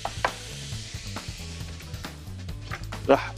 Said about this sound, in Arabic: رح قلي البصل